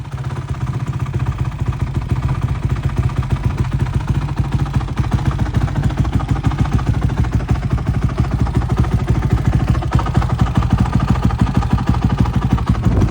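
A Limited Edition Honda TRX450ER ATV with an HRC kit idles just after a cold start. The single-cylinder engine gives a loud, close, steady rapid thumping that runs unbroken throughout, with no talking.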